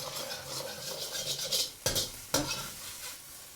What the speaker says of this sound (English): I'm just going to cook this through for about a minute or so and then just break it up, almost like scrambled egg.